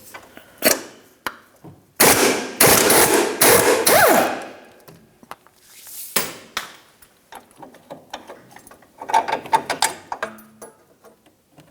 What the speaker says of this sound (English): We'll use the 24 to hold the nut, 21 to remove the bolt.